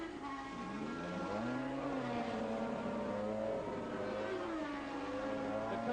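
A 1983 Lotus 94T Formula 1 car driven by Nigel Mansell pulling into a pit stop at the British Grand Prix, its engine a steady droning whine with shifting pitch, continuous and moderately loud throughout.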